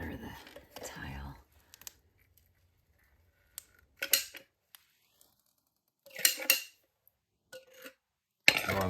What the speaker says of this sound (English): I'm gonna butter the tile.